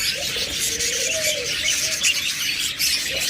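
Pigeons coo in low, soft, rolling calls close by, repeating over a steady background hiss.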